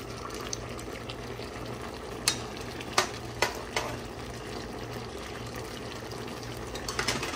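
Laswa vegetable soup made with fresh fish broth is stirred in a pot, a steady bubbling simmer with a few sharp scrapes and clinks of the spoon against the pot.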